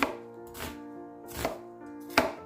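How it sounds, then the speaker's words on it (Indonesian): Shallots are roughly chopped on a board with a knife: four distinct, crisp cutting knocks at uneven intervals, close and clear against a quiet background. "kita giling dulu bawang merahnya ya teman-teman. Ini kita potong-potong"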